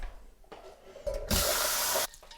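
Tap water runs into a pan being filled to boil eggs, a steady close rushing stream lasting under a second after some quieter splashes, with no talk.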